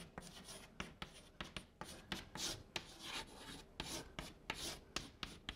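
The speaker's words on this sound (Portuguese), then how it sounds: "Deixa eu escrever um pouco mais para cá." Chalk or marker scratching across a board during a physics lecture on photons and waves, a run of quick rasping strokes with short pauses, close and fairly faint, no talk.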